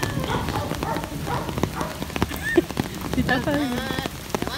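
Rain falls steadily on a street, a constant patter of drops on wet ground close by, while people talk over it.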